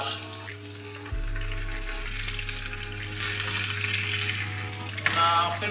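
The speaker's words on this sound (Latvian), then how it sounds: "Pusi cepšanā mēs pievienojam sviestu un arī ķiploku, lai dažādot šo te garšu." A dry-aged steak fries in butter and garlic in a pan on an electric stove, a loud continuous sizzle and crackle close up with a steady low hum beneath, occasional stirring and clinks.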